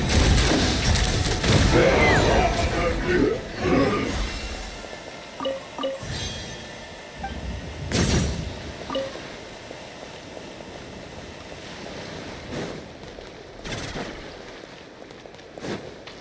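Gunfire and heavy impacts from the video game Genshin Impact, a loud burst of booming thuds and crashes at the start, then scattered sharper shots and thumps fading to quieter bursts.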